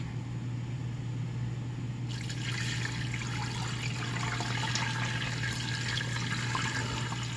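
Water gushes steadily into an Instant Pot pressure cooker for turkey broth, a continuous broadband rush that stays loud and close over a low hum, with no talking.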